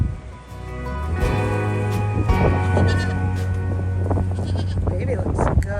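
A newborn black and white goat bleats in thin, wavering cries, repeated several times close by, with a low steady hum underneath.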